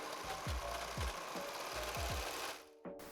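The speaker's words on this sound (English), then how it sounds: "now I'm going to serge the edges around the waist and skirt so that the fabric doesn't fray" Serger overlocking the fabric edges of a dress at the waist and skirt, a steady loud mechanical whir with rhythmic thumps that stops abruptly near the end.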